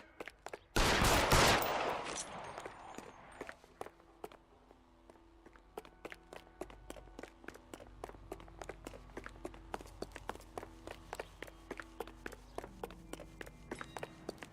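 Gunfire in the L.A. Noire video game: a loud burst of shots up front, then a long string of sharp, evenly spaced single shots with footstep-like clatter, all without speech.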